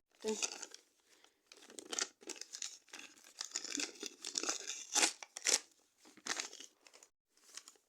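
A paper packet crinkles and tears open in repeated bursts, loud and close, with brief pauses between handling.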